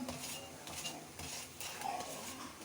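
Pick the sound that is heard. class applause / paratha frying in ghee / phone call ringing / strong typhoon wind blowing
paratha frying in ghee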